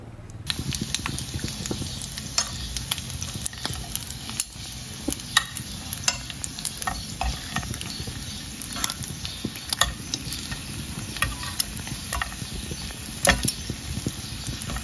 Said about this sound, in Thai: ทอดปลาย้อนครับเมนูแซ่บสุดๆเลยครับพี่น้อง